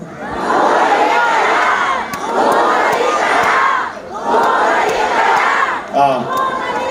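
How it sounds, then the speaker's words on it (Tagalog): A large crowd at a political rally roars in three long, loud waves of shouting and cheering, each lasting more than a second, with a brief dip between them. "Sigaw nga tayo na marinig sa bakod."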